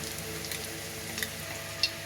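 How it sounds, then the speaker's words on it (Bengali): Batter-coated boiled eggs fry slowly in hot oil, making a steady, close sizzle with a few brief pops and spatters scattered through it. "এবার এগুলো আস্তে আস্তে ভেজে নেব"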